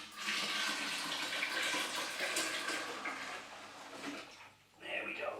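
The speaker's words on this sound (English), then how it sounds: "transferring the wort across" Homebrewed all-grain wort pours from a brewing pan into a fermenter, a steady rushing splash that softens and briefly dips near the end before surging again, with faint talk underneath.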